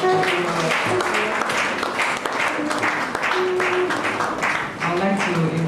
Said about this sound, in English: I want a round of applause for